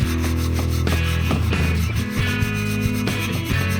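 Rust is rubbed off old motorcycle chrome by hand in quick repeated scrubbing strokes, a close, dry, raspy rubbing with an uneven back-and-forth rhythm and no talk.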